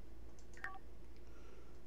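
Phone keypad tones beep in The Sims video game, a short quick cluster of dialing tones over a quiet background hum.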